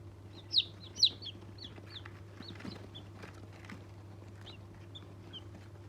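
Two loud, sharp peeps ring out near the start, followed by softer scattered chirps from newly hatched chicks over a constant low hum.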